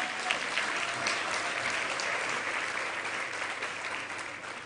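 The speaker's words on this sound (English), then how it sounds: "please give him a round of applause" An audience at an entrepreneurship forum applauds steadily, a broad wash of many hands clapping that holds at an even level throughout and heard from a slight distance.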